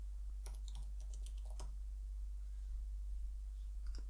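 Sparse keyboard typing while entering a word in all caps during app setup work: a few quick close clicks clustered in the first couple of seconds, then near silence with one last faint tap.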